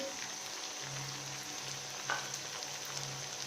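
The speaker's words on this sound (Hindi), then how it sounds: "पेस्ट फ्राई हो चुका है, अब हम इसमें धनिया ऐड करेंगे" Masala paste of ginger and garlic fries in a pan as coriander goes in, a steady soft sizzle with a faint low hum and a few small clicks of stirring, quiet and close.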